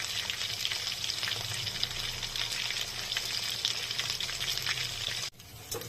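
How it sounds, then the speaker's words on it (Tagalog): Chicken pieces frying in hot oil for a sweet and sour dish give a steady, dense sizzle with fine crackling throughout, briefly cut by a short drop near the end before the hiss resumes. "so let us fry first the chicken"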